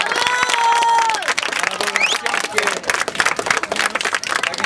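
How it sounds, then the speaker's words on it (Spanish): Applause and cheering from participants at a neighbourhood graffiti workshop, bursts of clapping mixed with voices and a few whoops, close and lively. "yo creo que un aplauso para todos,"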